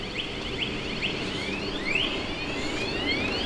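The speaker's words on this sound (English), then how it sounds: "Oh, bike alarm." A motorbike alarm wails nearby on a street in Saigon, Vietnam, its electronic tone sweeping up and down in rapid repeated chirps over steady background noise.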